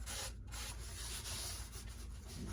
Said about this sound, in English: that's factory paint, but it's still doing sanding